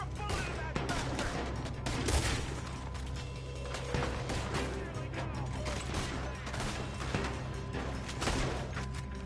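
Dense, continuous volleys of gunfire in Red Dead Redemption 2, a fight against a horde of enemies, with sharp repeated shots and crashes layered over one another and loud throughout.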